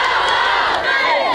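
Hundreds of protesters gathered outside Bhota Charitable Hospital in Hamirpur raise a loud, continuous roar of shouting voices, packed and close, with no pauses through the brief moment.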